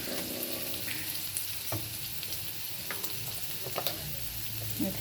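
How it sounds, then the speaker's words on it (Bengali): Fenugreek seeds and dried red chillies crackle as they fry in hot oil, giving a steady close sizzle broken by a few sharp pops and small stirring knocks, with no talking. "এই মেথি দিয়ে দিলাম এবং মেথিটাকে ভেজে নেব।"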